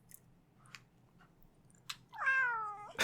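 A cat gives a clear, drawn-out meow near the end, after a few soft clicks and small sounds in a quiet room.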